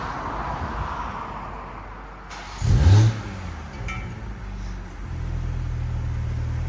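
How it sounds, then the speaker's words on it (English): A BMW M340i 3.0L with Valvetronic exhaust valves closed fires up with a short loud burst, then settles into a low, steady rumbling idle with a brief rev, heard close. "We're gonna start it up with the valves closed"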